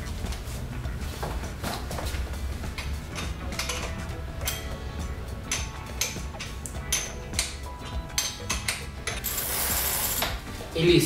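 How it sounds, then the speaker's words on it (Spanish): Wrench tightening the pedals of a Xiaomi Qicycle electric bicycle, giving close, irregular ratcheting clicks and metallic mechanical rattles throughout, with a louder rustle near the end. "nos trae una llave con la que deberemos hacer el ajuste de los pedales"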